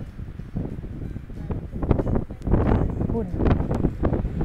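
Strong, gusty wind buffets the microphone outdoors at a scenic country overlook above water where boats sit below, a continuous roaring rumble that swells in waves, with someone talking over it.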